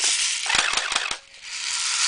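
A Well P90 airsoft submachine gun fires a short quick burst of about four or five sharp cracks in the middle, with a steady hiss of background noise before and after.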